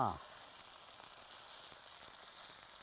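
Fish coated in ground green peppercorn and bird's eye chili paste sizzles steadily as it fries in a pan, a close, continuous hiss that follows a brief voice at the very start.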